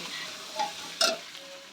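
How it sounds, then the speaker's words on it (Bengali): Rice, cumin and ginger paste being sautéed in a pan for muri ghonto, with a quiet background sizzle and two short stirring scrapes, close and fairly soft. "ভালো করে হচ্ছে কষিয়ে নিচ্ছি"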